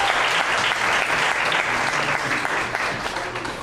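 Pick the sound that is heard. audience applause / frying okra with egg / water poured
audience applause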